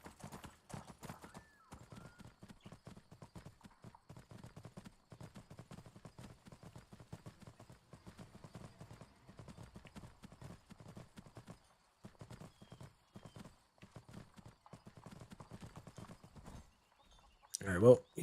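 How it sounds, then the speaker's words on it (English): Steady clip-clop of a horse's hooves in Skyrim, a fantasy video game, running almost unbroken at close range under quiet game ambience, with a brief louder burst near the end. "That was a really good horse."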